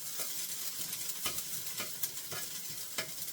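Frozen or dehydrated potatoes frying in oil for hashbrowns, a soft continuous sizzle broken by repeated scraping stirs and clicks of a utensil against the pan, close by and fairly quiet.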